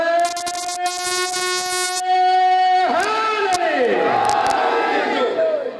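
A crowd at a religious gathering answers a child's raised slogan with a loud, sustained collective shout, following a long tonal vocal call that bends and swells into the roaring response.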